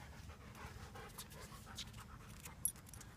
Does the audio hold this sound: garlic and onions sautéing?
no